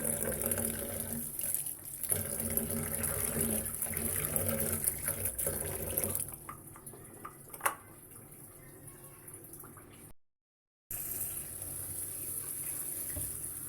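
Running tap water splashes steadily over fresh coriander leaves being washed by hand, with a faint sink-side clatter and a brief break in the flow near the end; no one speaks.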